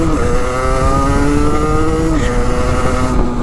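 A Sherco 50 SM-RS 50cc supermoto motorcycle engine revs up close and loud, its harmonic pitch climbing steadily and holding high before a brief shift, with no talking over it.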